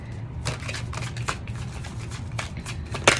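Tarot cards shuffled and pulled from the deck, a soft, continuous riffling with crisp snaps at irregular intervals and a sharper flick at the end, close-up and with no talk.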